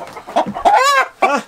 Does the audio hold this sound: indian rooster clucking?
yes